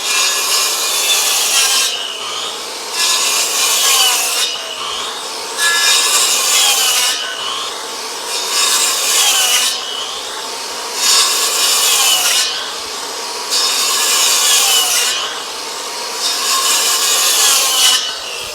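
A sawmill blade cuts a series of kerfs in timber for timber-frame joinery, giving about seven regular, loud, rasping strokes in a steady back-and-forth rhythm with short pauses between them.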